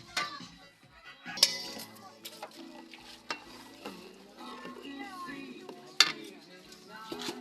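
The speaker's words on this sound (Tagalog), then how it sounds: "Yung gata, sinalo-halo." A spoon stirs coconut milk with sugar and corn in a pot, soft scraping and gentle bubbling punctuated by two sharp metallic clinks against the pot's rim, with quiet talk in the background.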